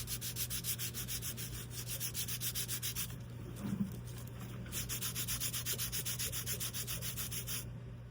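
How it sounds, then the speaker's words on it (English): A wooden scroll saw art piece being hand sanded with 150 grit sandpaper, giving steady rhythmic rasping strokes up close, with a brief pause midway before the back-and-forth rubbing resumes. "So now what I'm going to be doing is sanding."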